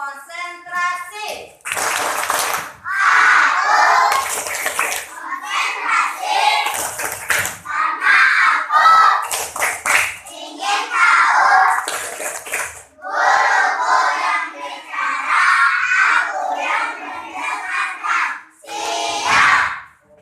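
A class of children performs the 'tepuk konsentrasi' clapping chant, loud unison shouting broken by crisp, rhythmic bursts of group clapping repeated many times, near and lively.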